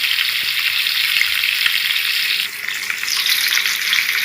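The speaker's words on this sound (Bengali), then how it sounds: "এবার আমি মাছগুলো ভালোভাবে ভেজে নিচ্ছি।" Fish pieces fry in hot oil on a gas stove, giving a loud, steady close-up sizzle that briefly dips before crackling back up, with no talking.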